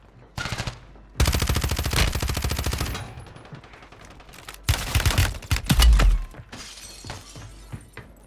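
Bursts of rapid video-game gunfire with a sharp, shattering edge, loud and close, coming in several separate volleys with short pauses between them.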